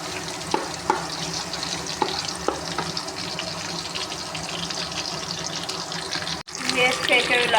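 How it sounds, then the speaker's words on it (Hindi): Onions frying in a pan until golden brown, a continuous loud sizzle with a few stirring clacks, a brief gap near the end, then a louder burst of frying. "प्याज डालेंगे, गोल्डन ब्राउन करेंगे प्याजों को।"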